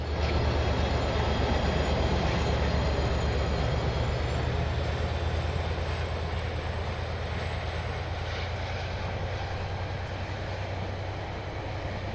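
A New Zealand passenger train on a return service rumbles past Symes Road south of Kaiwi, a loud, continuous roar of wheels and engine holding steady throughout at close range.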